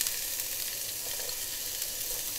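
Ginger and garlic sizzle in a hot pan with onions for an Indian aloo gobi, a steady close hiss of frying with no talking.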